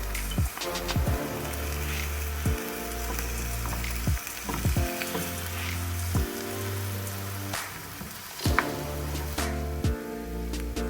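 Minced meat goes into a pan of sautéed onions and peppers for Kayseri yağlama, sizzling loudly and steadily with repeated spoon scrapes and clacks against the pan, close up with no talking.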